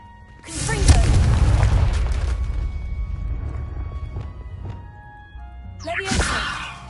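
A Confringo fire spell blast in Hogwarts Legacy on PS5 erupts as a loud, booming burst near the start and rumbles away over several seconds, followed by a second sharp blast near the end.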